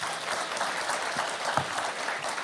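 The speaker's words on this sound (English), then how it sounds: "Big warm round of applause" A crowd applauds warmly, dense clapping holding steady and fairly loud throughout.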